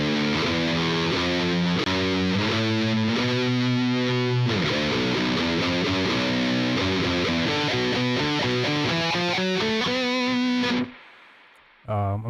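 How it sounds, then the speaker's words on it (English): Distorted electric guitar plays a bluesy minor pentatonic lick in a Southern metal style, loud and continuous, with notes sliding between one another before stopping abruptly near the end. "the blues, instead of just going from 5 to 7, you'll go 5, 6, 7, and it gives you that bluesy sound"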